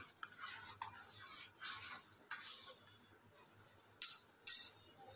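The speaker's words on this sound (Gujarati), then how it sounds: "અને એકદમ મિક્સ કરી દઈશું. ગેસ ધીમો રાખવાનો છે, ધીમા તાપે જ ઉકાળો કરવાનો છે આપણે." A spoon stirs an herbal decoction in a pot over a low gas flame, with soft repeated scraping strokes and two sharper clinks against the pot toward the end.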